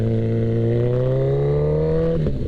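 A 2021 Kawasaki ZX14R motorcycle with a loud Voodoo exhaust drones up steadily in pitch as it accelerates, close and loud throughout, then drops sharply near the end as the rider shifts gear.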